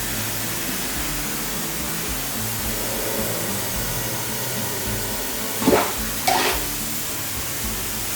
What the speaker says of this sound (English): Then we switch off the vacuum